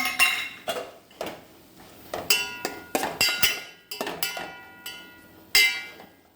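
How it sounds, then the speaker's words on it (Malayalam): A metal spatula clanks and scrapes against a pan as beans are stirred with grated coconut and curry leaves, giving a dozen or so sharp, uneven knocks spread over several seconds, close and fairly loud with no voices. "നമുക്ക് പയർ ഇളക്കി കൊടുക്കാം."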